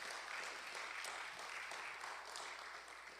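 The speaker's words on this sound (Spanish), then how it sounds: "Fuerte el aplauso a la gloria de Dios." A church congregation claps in praise, a steady dense wash of many hands sounding fairly faint and distant and holding evenly for a few seconds before easing slightly at the end.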